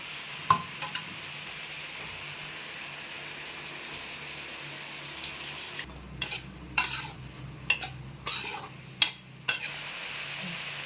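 Stirring and scraping as spices and coconut temper in a pan over a steady sizzle, with a few sharp clinks of a spoon against metal toward the end.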